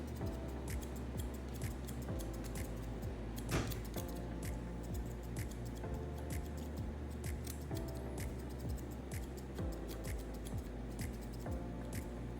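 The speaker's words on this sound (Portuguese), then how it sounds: "O polimento com a tesoura dentada" Texturizing scissors snip hair during a high fade haircut, a quick run of small close metallic clicks and cuts over a faint steady background.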